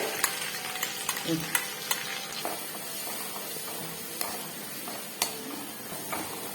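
A crushed paste is stirred into hot oil with curry leaves for Kerala mango pickle, giving a soft, steady sizzle broken by scattered clicks and scrapes of a spoon against the pan.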